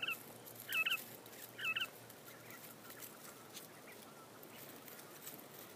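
Young Japanese quail in an outdoor colony pen give a few short, sharp calls in quick succession early on, then fall quiet over a soft, steady outdoor background.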